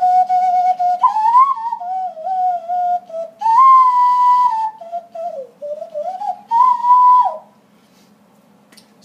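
Loud hand whistling through cupped fingers, sliding tones broken by rapid finger-flutter triplets in a warbling rhythm, close and alone before trailing into near silence.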